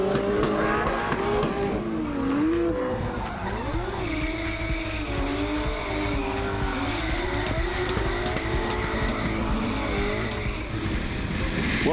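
Two drift cars battle at Hampton Downs Motorsport Park, a Holden Commodore attacking, engines wailing and rising and falling in pitch over continuous loud tyre squeal, close and unbroken throughout, with no speech.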